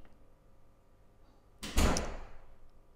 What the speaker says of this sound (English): if you can hear the banging, that's them opening and shutting the door